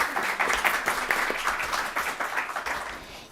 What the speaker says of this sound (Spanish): Le damos un aplauso a nuestros ponentes, por favor.